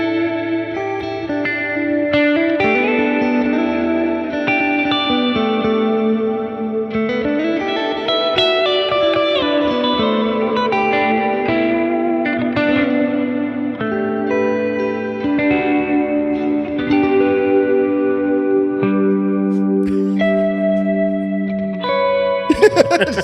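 Electric guitar chords ring out through a lush, washy reverb from a Quad Cortex or Ampero modeler, notes blooming and sustaining into one another for a long continuous passage.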